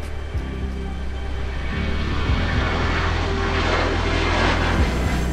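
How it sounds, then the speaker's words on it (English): A tour helicopter sits on the ground at a Maui heliport, its engine and rotor producing a steady, loud, close droning hum with a low throbbing pulse that holds throughout, and no voices. "Our helicopter just landed."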